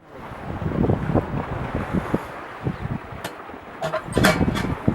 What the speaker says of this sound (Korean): 우와, 파도가 점점 세져.